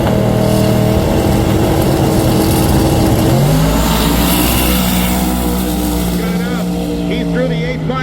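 Roaring drag race car launching down the strip at a hot rod drag week event, loud sustained engine howl with rising pitch as it accelerates away, announcer talk running over the noise.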